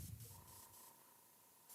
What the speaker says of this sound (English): My airbrush is honestly acting up a little bit